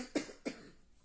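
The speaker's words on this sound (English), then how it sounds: "Had to clear my throat." A person clears their throat twice in quick succession, close and fairly quiet, with short rough bursts followed by near silence.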